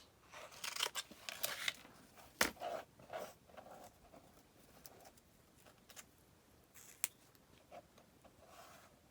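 Scissors snipping paper corners and angled edges while assembling a scrapbook album, a handful of quick, fairly close cuts scattered through otherwise quiet moments.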